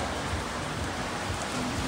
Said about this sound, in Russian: Да, дожджяра, все, ребят. Дощ конкретний.